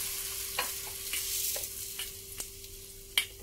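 Green chili sambal is stirred just after hot oil has been poured over it, a quiet oily sizzle broken by a series of spoon scrapes at an uneven pace, with no talking.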